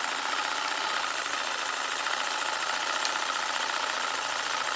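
A corded sawzall reciprocating saw shakes a large, heavy paint can, giving a continuous buzzing mechanical rattle at a steady moderate level with no speech over it.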